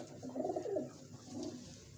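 Soft, low cooing from pigeons, including golden-check birds, kept by a hobbyist, two gentle rolling coos heard faintly and close by.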